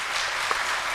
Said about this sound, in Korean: 우리 수고하신 모든 분들 한번 박수로 격려합시다